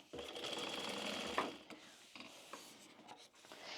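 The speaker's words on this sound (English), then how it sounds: "we're just going to sew along the bottom" A sewing machine stitches along the bottom of a waterproof canvas tote bag with a close, rapid mechanical whir, stopping and starting in short bursts alongside handling rustles and small clicks.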